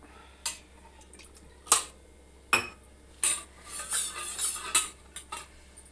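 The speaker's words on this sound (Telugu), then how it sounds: "ఇది పోసిన తర్వాత కలపాలి, లేకుంటే అంత గడ్డలు కడుతుంది" A spoon clinks and scrapes against a pot while custard powder mixed in milk is stirred, in sporadic close taps and short scraping strokes over a quiet background.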